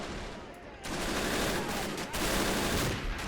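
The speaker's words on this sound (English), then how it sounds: "the Americans getting some real accurate in-stack one-and-done rifle grenade shots" Rifle grenade blasts and gunfire from the Men of War: Assault Squad D-Day Normandy 1944 landing battle, a dense roar of overlapping shots and explosions that swells loudly after the first second and stays continuous.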